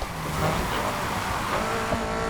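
A race car engine with an uncustomized stock exhaust roars steadily in the video game Need for Speed Heat, a dense, buzzing exhaust tone, continuous and loud throughout, with no voices.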